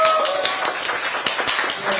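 An audience at a political press conference claps, a brisk fairly close patter of hands that stays even for a couple of seconds with some talk mixed in.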